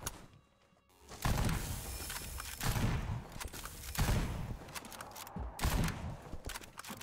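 Hunting rifle gunfire in the Sker Ritual zombies video game: several loud, separate shots spaced a second or so apart, each with a sharp crack and a short rumbling tail, after a quiet opening.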